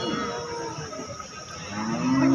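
A cow lows at the Sangola cattle market, a long, loud, drawn-out moo that swells toward the end over a constant murmur of market noise.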